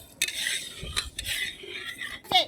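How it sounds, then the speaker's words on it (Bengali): Dal frying in a pot for a home feast is stirred in a few quick strokes, with short spoon scrapes and clinks against the metal over a faint sizzle. "ডাল ভাজা হচ্ছে"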